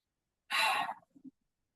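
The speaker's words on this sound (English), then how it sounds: "3 big deep breaths" One deep breath during a cool-down stretch in a holiday workout: a strong airy exhale lasting about half a second, followed by a couple of faint soft breath sounds, close and alone in silence.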